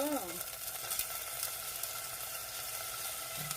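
Steady oil sizzle from scallions frying in sesame oil in a pan, a continuous crackling hiss with a brief stirring scrape at the start.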